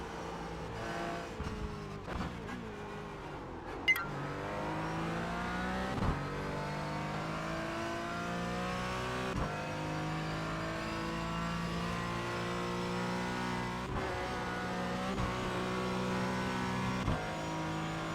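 Simulated race car in iRacing braking hard and dropping gears, the engine note falling and blipping in short steps before climbing through rising upshifts, a steady close engine drone throughout with no talk.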